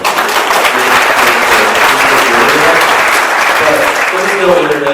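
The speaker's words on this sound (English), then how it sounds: "I think we should applaud Danae" A conference audience at a panel on aging with homocystinuria breaks into loud, sustained applause that fills the room throughout, with a few voices mixed in.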